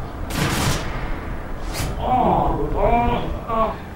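A single gunshot fired in an online shooter game during a Simon Says style round, a sharp burst heard early, with a second brief crack and player voices talking afterward.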